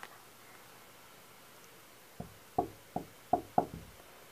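Five sharp knocks land in an uneven series on a surface nearby after a quiet lead-in, each a crisp, hollow thud, with no voices alongside.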